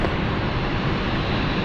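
KLM airliner taxiing at London City Airport, a loud, continuous broadband engine roar that stays steady throughout the brief moment, with no voices over it.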